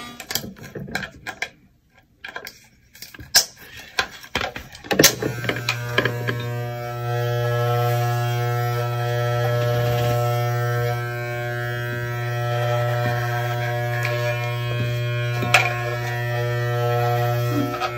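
Andis professional hair trimmers lining a haircut, a steady close buzzing hum that starts after a few seconds of handling clicks and rustling, then runs continuously with faint ticking, no talking.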